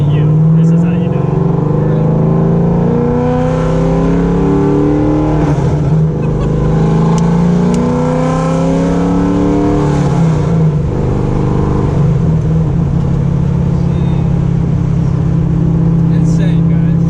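A straight-piped, all-motor Corvette Z06 drives on a public road, its exhaust a loud, continuous low roar that rises and falls with throttle for the whole stretch, with people talking over it.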